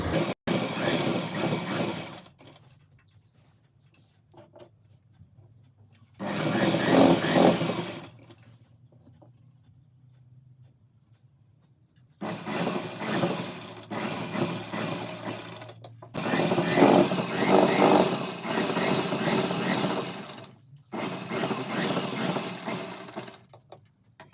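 Sewing machine stitching the seam of palazzo pants, running in several steady buzzing bursts of a few seconds each, separated by quiet pauses, close and fairly loud.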